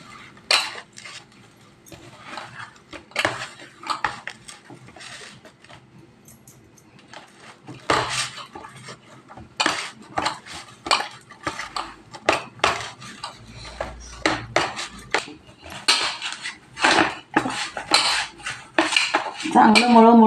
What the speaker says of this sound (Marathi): मळून घेते थोडं थोडं पाणी घालून.